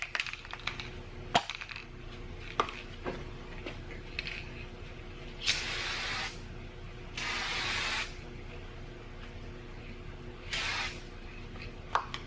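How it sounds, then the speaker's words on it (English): Three separate bursts of aerosol clear coat hiss over the restored logo on a 1960s DeWalt Model GA radial arm saw, each spray lasting a second or two, with scattered small clicks and taps in between. "I'll put a clear coat"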